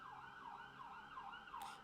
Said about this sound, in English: I think that's the first ambulance of the day